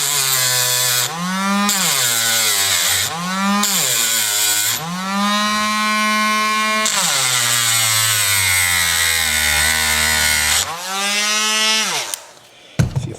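A small grinder or rotary tool grinds down a Hot Wheels toy car axle, a loud, continuous whine that rises and falls in pitch across several passes, with short breaks between them and a clatter at the end.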